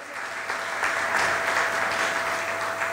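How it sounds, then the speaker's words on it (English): A school graduation crowd applauds homeroom teachers in a large hall, with a dense, even wash of clapping heard at moderate volume and some room echo, sustained throughout and no voices. "Let's, of course, give them a resounding round of applause for all their hard work."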